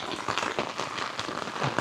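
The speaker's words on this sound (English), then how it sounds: "it's raining pretty good right now" Heavy rain falls outdoors near a parking lot, a dense, even hiss of drops pattering on surfaces with faint crackling, continuous and moderately loud.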